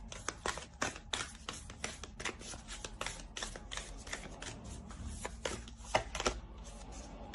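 Tarot cards are shuffled and drawn close by in a series of quick, crisp riffling snaps and soft slides, spaced unevenly over several seconds, with no talking.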